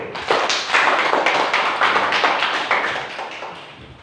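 Children clap their hands together in fast, steady beats, loud and close, the claps blending into a dense rhythmic patter that fades slightly toward the end.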